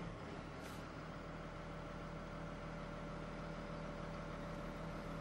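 A Volvo crawler excavator's diesel engine runs at a steady low idle, a faint, continuous rumble with a constant hum and no speech.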